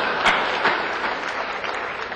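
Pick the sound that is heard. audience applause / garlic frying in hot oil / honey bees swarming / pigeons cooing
audience applause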